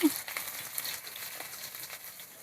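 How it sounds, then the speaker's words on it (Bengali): Potatoes frying with turmeric in a pan for a chicken skin curry, producing a faint, steady sizzle with light stirring, quiet and close. "আমি এবার আলুগুলো ভেজে নেব"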